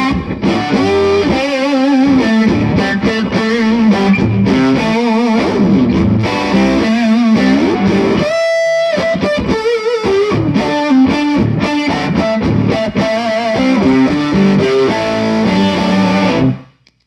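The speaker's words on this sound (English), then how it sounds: "Let's check out the bridge pickup a bit more." A Bruton Effinity electric guitar on its bridge pickup plays distorted, effects-laden riffs and chords, loud and up close, continuous for about sixteen seconds before ending abruptly, with no talking.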